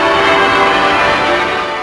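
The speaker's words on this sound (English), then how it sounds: "the sound of the bells ringing out in her name" Westminster Abbey church bells ring out together in a dense, loud wash of overlapping tones that sustains steadily throughout, fading only slightly toward the end, with no voices.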